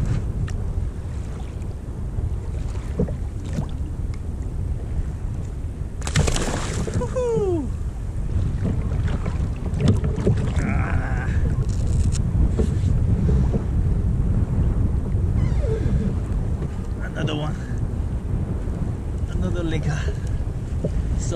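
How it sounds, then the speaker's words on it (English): Steady wind of about 15 over whitecapping sea while kayak fishing, a continuous broad rush of wind buffeting with water washing beneath, under occasional talk. "The wind picked up and it's a steady 15 now."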